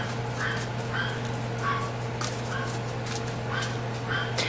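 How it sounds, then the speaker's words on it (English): Dogs, including a chihuahua, yip and whimper in a quick irregular series, somewhat distant, over a constant low electrical hum. "The dogs are barking fools."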